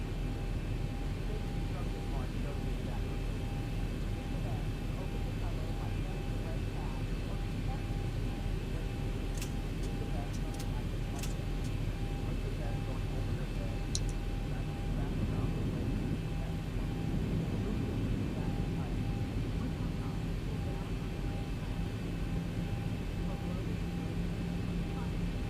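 A Zibo mod airliner taxis in a flight simulator game, its engines producing a steady low whine and rumble that stays even throughout, with a few faint clicks partway through.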